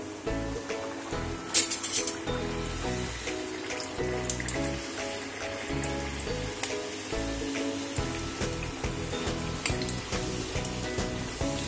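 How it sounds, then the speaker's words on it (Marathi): Mathri being deep fried in hot oil, a dense continuous crackling sizzle with scattered sharp pops, close and fairly loud, no talking. "तेल आपलं तापलंय, आपण तळून घेऊ."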